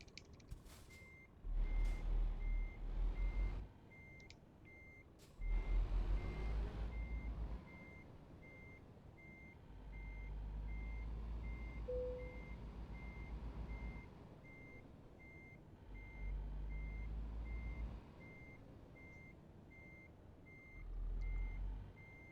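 A truck backs a long trailer into a parking spot in Euro Truck Simulator 2, with a steady reversing beep repeating throughout, engine revving in loud bursts between quieter idling stretches and a short air-brake hiss.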